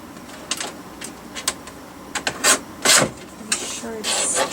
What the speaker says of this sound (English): I have my trimmer right here